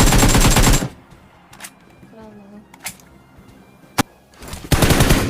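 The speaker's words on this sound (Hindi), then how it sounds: "डीपी का भाई जबरदस्त फायर आया हमारे साइड" PUBG gameplay gunfire comes as a few sharp isolated shots and one crisp bang, set between loud bursts of dense firing at the start and end of the clip, all close and punchy.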